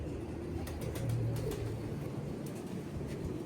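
A large pigeon gives a low, soft cooing burst near the middle, heard close and faint over quiet background noise with a few light clicks.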